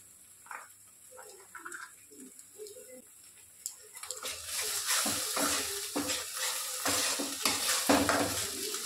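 Ground white and black mustard paste goes into a hot pan in a home kitchen. Soft clinks and scraping give way to a steady sizzle and stirring that grows louder partway through.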